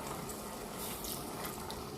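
Water is poured into a pasta casserole pot of about three quarts, adding a little extra to roughly 2.5 quarts, a steady broadband gush lasting about two seconds at moderate level with no talking.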